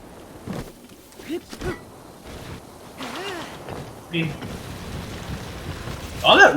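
Steady rain pours in The Legend of Zelda: Breath of the Wild around a Divine Beast, a soft continuous hiss with brief in-game chimes and effects rising over it.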